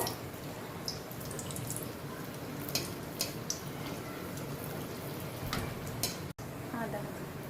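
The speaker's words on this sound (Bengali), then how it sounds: "এইভাবে করে আমি সবকটা ভেজে নেব।" Malpua fries in hot oil with a soft, steady sizzle broken by brief clicks and spatters, fairly quiet, with a short gap near the end.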